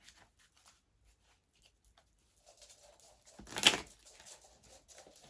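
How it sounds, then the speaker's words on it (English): A single quick riffle of playing cards bursts out after a few seconds of near silence, with faint rustling and light handling noises around it; a bearded dragon scuttles on the floor nearby. "That was a crappy shuffle. I'm going to do that again."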